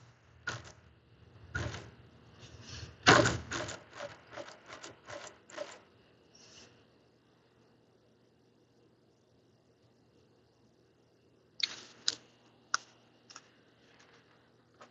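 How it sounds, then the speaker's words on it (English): ISP Bindery Mate II 406 tabletop wire stitcher stapling paper, a quick series of sharp mechanical clacks and thumps, then a pause and a second shorter burst of clicks, close and clear with no talk. "So it's activated when you push the paper in and activate the switch there behind the staple head."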